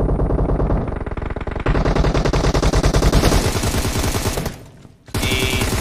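Rapid automatic gunfire from PUBG Mobile rattles in dense, continuous bursts for most of the clip, breaking off briefly near the end before resuming, loud and close with no talk over it.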